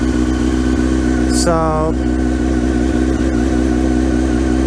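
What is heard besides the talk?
motorcycle engine starting up after sitting all year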